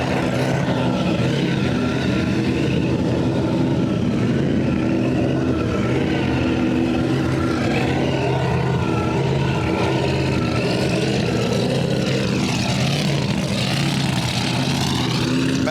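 A supercharged V8 in a Holden HR ute roars continuously through a burnout, loud and close, with the engine pitch rising and falling as the throttle is worked.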